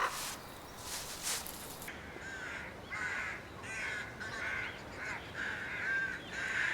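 Several crows caw in short harsh bursts in winter wilderness, spaced irregularly, with faint rustling and outdoor background noise between calls.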